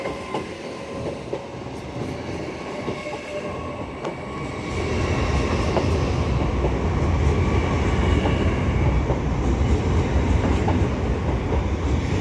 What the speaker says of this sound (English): there's an Azuma bound for Edinburgh